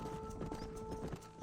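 A horse's hooves clip-clop in a steady walking rhythm while herding cattle in Red Dead Redemption on Nintendo Switch, moderately close, with a faint sustained tone running underneath.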